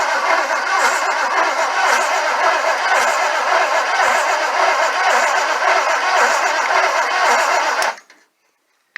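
A Trans Am's starter motor keeps running without shutting off after a cable is hooked to the back of the solenoid, a steady loud whir for about eight seconds before cutting out abruptly into silence.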